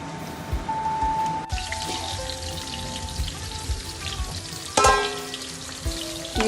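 Kappa (cassava) and beef mixture frying in tempered onions in a pan, a steady close sizzle with crackling pops and a sharper burst near the end, no talking.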